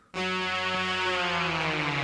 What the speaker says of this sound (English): Then I've got this vinyl distortion just to give it a little bit of grit.